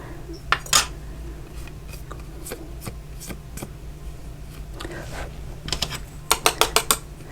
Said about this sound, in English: And then I always like to tap off the excess on the back side.